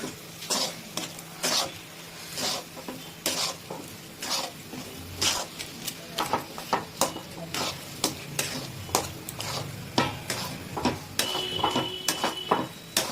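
Mashed potato is stirred in a pan over a high flame. A spoon or spatula scrapes against the pan in repeated uneven strokes over a soft background sizzle, with the odd clink of metal.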